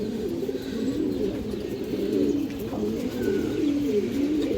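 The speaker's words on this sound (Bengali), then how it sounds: "এই যে দেখেন কাজ করা কবুতর বাচ্চা, নীলা কাজ করা কবুতর বাচ্চা" Pigeon chicks of the blue-patterned fancy breed coo steadily and close by. The low, rolling coos overlap without pause against a soft background hum.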